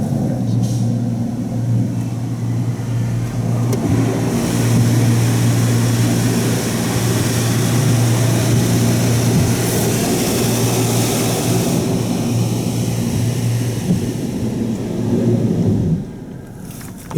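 A Mark VII ChoiceWash XT touch-free automatic car wash running at a Circle K gas station, a loud steady hiss and rumble of spraying jets and machinery that continues without a break before easing off near the end.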